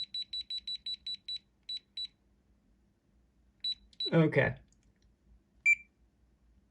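A Digimon Monster Hunter Digivice toy emits a rapid run of identical high electronic beeps, then a pause, then two more beeps. A person speaks briefly, and a final beep follows.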